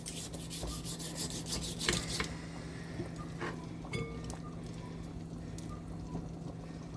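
Cucumber shaved into thin slices for a sandwich, a steady close rasping rub with repeated scraping strokes over a constant low background hum, no talking.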